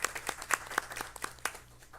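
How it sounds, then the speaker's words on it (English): An audience at a board meeting gives a short round of applause, with scattered, uneven claps fading out over about two seconds, fairly close and modest in volume. "So let's give her a round of applause."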